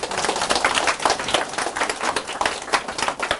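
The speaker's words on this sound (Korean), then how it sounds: "박수." Audience members clap at a lecture by Huh Kyung-young, a dense, steady patter of hand claps at close range, with no talk over it.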